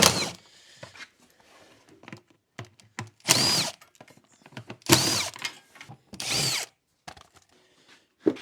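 A power drill or impact driver spins off 3/8 bolts on a Polaris Sportsman 570 ATV in several short, loud, close bursts separated by pauses and small clicking handling noises.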